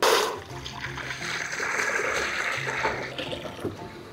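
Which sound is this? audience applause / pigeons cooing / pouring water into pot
pouring water into pot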